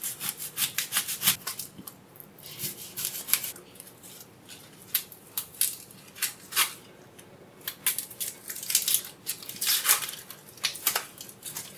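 Onion peeled and cleaned with a small knife, giving close, repeated dry scraping, rubbing and crackling of papery skin in quick irregular strokes, quiet setting without voices.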